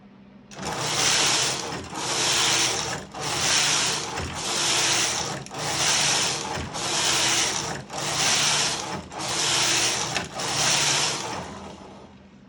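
Silver Reed knitting machine knitting Fair Isle from a punch card, the carriage swept back and forth in nine even rasping passes about a second each, separated by short pauses, close and loud with no talk.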